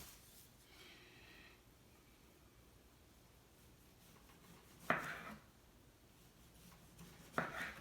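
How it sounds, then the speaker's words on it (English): A knife slices thin pieces for tacos in a quiet kitchen, two separate sharp cuts several seconds apart against faint background hiss. "Just gonna do a couple of thin slices"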